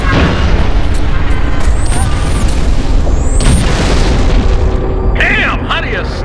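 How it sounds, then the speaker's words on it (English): Artillery fire in the Halo Reach video game booms and rumbles heavily and continuously at high volume, with rolling blasts layered over one another. Muffled voices are mixed into the din. "Firing FPF 2."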